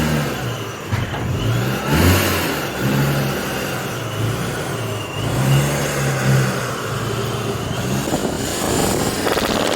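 Nissan 350Z with a GKTech front end revving while driving, its first time out of the garage in months; a loud, close engine drone rising and falling with repeated revs throughout.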